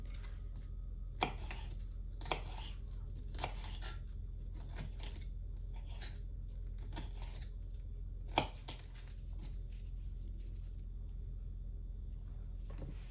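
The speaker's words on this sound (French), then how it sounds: "Je commence par découper le poivron. Donc très simple, je vais le découper donc en julienne." A knife chops a bell pepper into julienne strips on a board, with a series of crisp, close knocks at irregular intervals over a low steady hum, with no talking.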